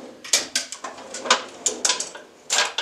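A shop drawer holding small squares, micrometers, calipers and compasses slides open or shut, giving a run of sharp knocks and rattles of metal tools over roughly three seconds, close by and with no voices.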